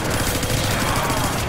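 Dense, continuous gunfire in a custom zombie map of a shooter game, a loud unbroken burst of overlapping shots with no pause.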